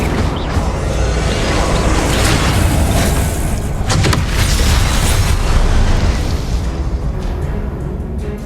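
A fire spell cast in Hogwarts Legacy gives a sustained roaring, crackling blast with a burst of sound midway, loud and dense throughout with no talking.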